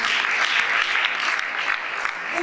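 A church congregation applauding loudly for the Lord during an evangelist's service, dense continuous clapping from a crowd, close and sustained.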